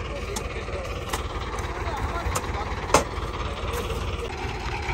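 A tractor strains to pull a trolley loaded with sugarcane that is stuck in a watercourse. Its engine gives a steady, close, low rumble with occasional sharp knocks, and people talk over it.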